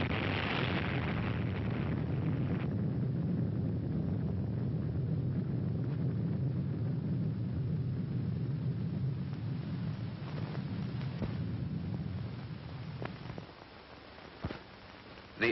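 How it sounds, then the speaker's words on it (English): An atomic bomb detonation from the 1946 Operation Crossroads test near the USS Nevada, heard as a long, dense, rumbling roar that holds steady for several seconds before fading, with a few sharp pops near the end. "The epicenter of the detonation of the bomb was approximately 650 yards from the USS Nevada at this point."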